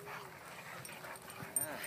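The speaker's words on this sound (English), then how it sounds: "look at that big dog over there" A big dog in a park gives a few short yips and whimpering vocalizations at moderate distance, mixed with faint voices.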